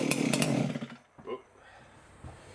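A G366 chainsaw engine fires loudly for about a second, then cuts out and sputters weakly a couple of times before falling quiet, heard up close.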